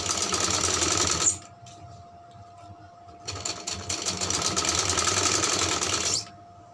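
A sewing machine stitching fabric for a sleeve design, running in two steady whirring bursts with a brief quiet pause between them, loud and close.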